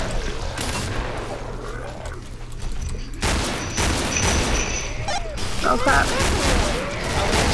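Revolver gunfire in the video game Killing Floor, a dense run of sharp shots and booms over chaotic game noise, loud and close, with players talking over it.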